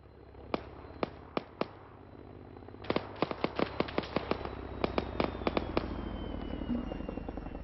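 Frag grenades and gunfire bursting in a military video game, a series of sharp, loud cracks, a few spaced out, then a dense rapid cluster, with a faint steady hum underneath.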